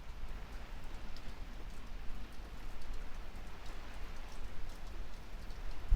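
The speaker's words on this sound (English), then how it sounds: "The rain has certainly eased back" Steady rain pattering on a boat at anchor in the Bay of Islands during a gale, a dense, even hiss of drops with a low rumble beneath, moderately quiet and without voices.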